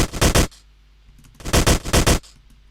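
Two loud bursts of rapid gunshot sound effects in a hip-hop remix of Shaktimaan, each lasting about half a second with a quiet gap between them.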